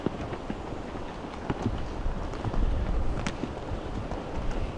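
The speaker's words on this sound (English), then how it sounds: "Very windy day today by the sound of it" Gusty wind buffets the microphone at Stansted Mountfitchet Castle with a rough, rumbling rush, rising and falling slightly over a few seconds, with no voices.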